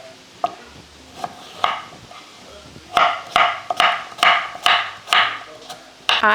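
A knife chops sweet potato into cubes on a cutting board, with a run of sharp, evenly spaced thuds, close and loud, after a few scattered softer knocks. Speech also occurs.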